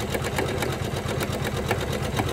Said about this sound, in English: So we're just gonna watch it and see how it does.